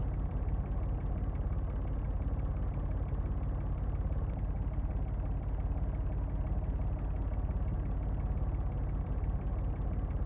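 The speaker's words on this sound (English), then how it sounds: "that might be the engine I heard in the video" A vehicle engine runs in the Secret Files 3 adventure game, a steady low idling drone that holds evenly throughout with no pauses, close and fairly loud, with no voices.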